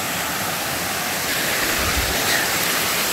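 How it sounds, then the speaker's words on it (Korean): Loud, steady rushing of a valley stream pouring over a two-tier natural-stone erosion-control dam, a dense continuous roar like a small waterfall, with no voices. "물소리가 시끄러워서 제 목소리가 잘 안 들리시죠?"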